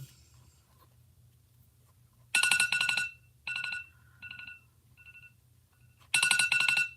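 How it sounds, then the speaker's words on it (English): An electronic alarm rings in short, bright bursts of shrill beeping, with gaps between bursts and a faint low hum underneath; no one talks over it. "I don't know why that alarm is on."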